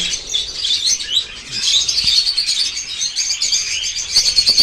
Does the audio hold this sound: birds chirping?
yes